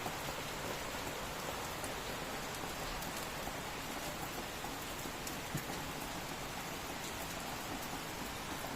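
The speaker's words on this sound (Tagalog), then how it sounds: "Bumuhos na naman ang malakas ng ulan." Heavy rain pouring down during a typhoon, a constant loud hiss of rainfall on surfaces with scattered drop impacts, uninterrupted and without voices.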